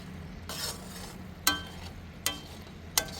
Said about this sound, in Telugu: కళాయికున్న వేడికే ఇవి మంచిగా ఫ్రై అయిపోతాయి